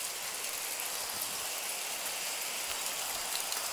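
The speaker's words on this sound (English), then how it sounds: "It's hailing outside." Small hailstones fall outside a house, making a dense, even patter of tiny impacts like steady rain, continuous and moderately faint with no voices.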